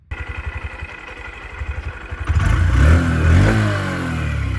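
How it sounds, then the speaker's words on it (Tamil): Honda SP 125 motorcycle engine cranking and catching, a quick pulsing start followed by a rising rev and then a steady idle, close by and fairly loud. "என்ஜின் சவுண்டு எப்படி இருக்குங்கிறத கேட்டு பாருங்கள்."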